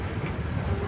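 An oil tanker train hauling fuel from the Narangi refinery in Guwahati rumbles past, a steady low rolling roar with faint wheel clatter and no voices.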